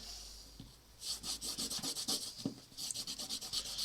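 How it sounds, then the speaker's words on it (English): A knife blade is stropped on rough unfinished rawhide leather, giving a series of quick, close rasping rubs in a steady back-and-forth rhythm after a short quiet start. "Another way of stropping your tools rather than necessarily having it hanging up is just on a bit of rough unfinished leather, a bit of rawhide."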